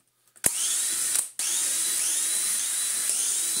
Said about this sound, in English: Although I think first we will undo all of the screws.